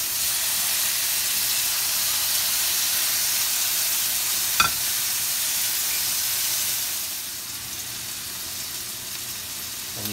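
Steaks sizzle loudly in an oiled hot pan, a constant bright hiss with a brief clink partway through, the frying easing slightly toward the end.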